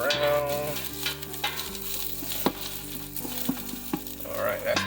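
Onions and garlic sizzling in a hot pot while gumbo is cooked in a converted bus kitchen, a steady crackling fry with occasional stirring clatters, close, under a faint low hum.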